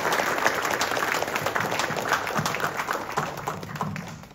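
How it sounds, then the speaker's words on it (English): Applause from a crowd at a public announcement event for Senator Gianaris at Mount Sinai Queens, a steady patter of clapping heard at moderate distance throughout. "So please give a huge round of applause for Senator Gianaris."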